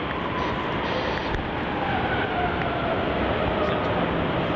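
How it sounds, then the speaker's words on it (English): A steady, loud roar of an aircraft engine running on an airport taxiway at Melbourne Airport, a continuous broadband rush that holds constant throughout. "Something sounds like it's about to take off on the taxiway."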